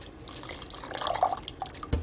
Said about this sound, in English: I'm gonna add all the water in here because they will cook for a long time